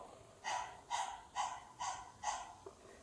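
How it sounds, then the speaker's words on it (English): A person demonstrates belly panting with the tongue kept in, five quick rhythmic breath bursts, evenly spaced and close, like a dog's pant, followed by a small softer puff. "We're going to be panting like a dog, but with our tongues staying in."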